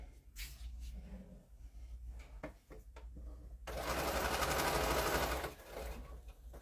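A sewing machine stitches quilt layers, first in short stop-start bursts, then in one loud continuous run of rapid needle chatter close to the microphone before slowing and stopping; no speech over it.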